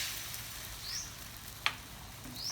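Eggs cracked into oil in a pan for stir-fried rice noodles, frying with a soft steady sizzle and a single sharp tap partway through, quiet and close.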